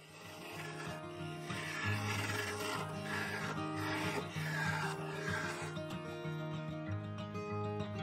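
A freshly sharpened woodturning gouge hollowing a Sapele wood vase on a lathe, a continuous close rasping, scraping cut over the steady hum of the spinning lathe, without speech.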